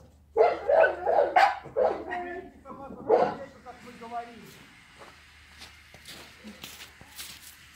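A dog barks in a short burst of several loud, close yelps, with people talking around it and faint movement noises afterward.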